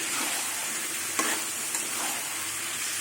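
Peas and boiled potatoes sizzle and crackle steadily in a pan for new-potato dum, with a few brief scraping stirs breaking through the hiss.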